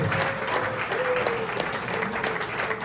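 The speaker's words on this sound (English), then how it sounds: "And Jerry, a round of applause." Audience applause at a basketball tip-off party, a steady wash of clapping from a crowd that holds evenly throughout, with a faint voice briefly audible beneath it.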